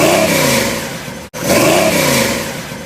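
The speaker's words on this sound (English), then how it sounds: "I like the way the Flowmasters sound when you rev it up and let off with that." Squarebody truck engine revved through Flowmaster mufflers: two rising revs with a throaty exhaust note, each easing off into a decaying rumble, loud and close with a brief cut between them.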